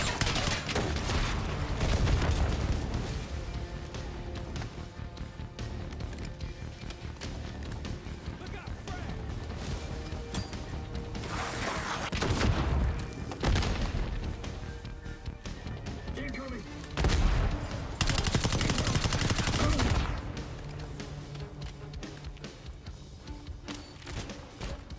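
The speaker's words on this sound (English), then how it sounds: "I hear that this is one of the best submachine guns in multiplayer too." Submachine gun fire in the Black Ops 6 campaign, with bursts of shooting and impacts amid busy game sounds of running and action, some louder volleys partway through, with voices talking over it.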